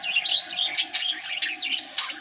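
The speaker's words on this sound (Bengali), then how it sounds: "ভীষণ ভালো লাগে এদের এই কিচিরমিচির শব্দ শুনতে।" Pet birds chirp in quick, bright bursts during the morning, several calls overlapping close by with no talking.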